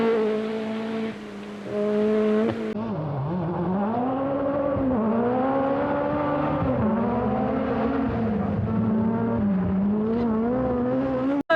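A Peugeot 205 T16 Group B rally car at full attack on a 1000 Lakes Rally stage, its engine loud and close, pitch climbing and dropping through gear changes with a steady harmonic drone.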